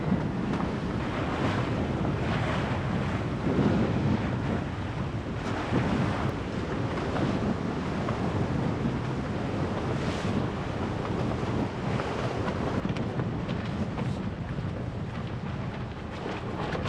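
Cold northeast wind buffets a triple-reefed sailboat at sea in the Bahamas, a constant loud roar of gusts over the microphone mixed with rushing waves, with no voices.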